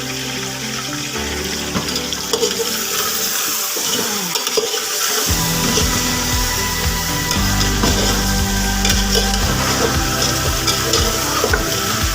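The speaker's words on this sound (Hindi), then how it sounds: "घी गर्म हुआ है, इसमें मैंने गोश्त को ऐड कर दिया है। अब इसको अच्छे तरीके से फ्राई करेंगे।" Beef pieces frying in hot ghee over a high flame for Peshawari namkeen karahi give a steady, loud sizzle with stirring noise throughout, and no voices.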